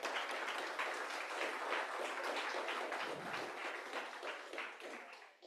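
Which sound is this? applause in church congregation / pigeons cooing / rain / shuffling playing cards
applause in church congregation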